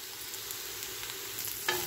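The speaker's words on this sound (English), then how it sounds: "Now I'm adding some crushed ginger and garlic, about 1 tablespoon." Crushed ginger and garlic frying with onions in a pan for a mushroom curry, giving a steady, close hissing sizzle with a small clink just before the end.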